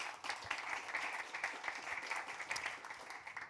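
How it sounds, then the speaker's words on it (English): An audience applauding at the close of a real estate talk on mixed-use urban districts: steady, dense clapping from many hands, moderately distant and fairly quiet, continuing evenly throughout with no voices over it. "People are all applauding you."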